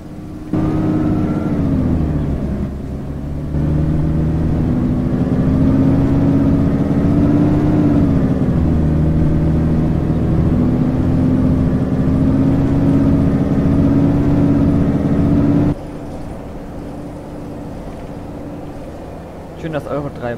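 A city bus in Omsi 2 with a Euro 3 Voith gearbox drones steadily at close range with a humming engine note. The pitch shifts briefly early on, then the engine settles lower near the end, with a voice talking over it.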